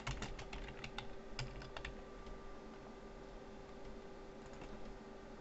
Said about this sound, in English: Type in a name.